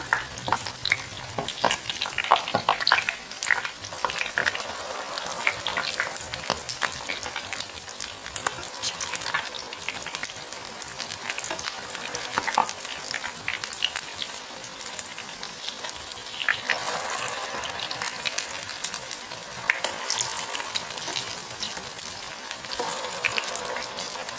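Food frying in a pan is stirred steadily, with continuous close sizzling and crackle over about twenty-four seconds and scraping stirs coming through in bursts, with no talking.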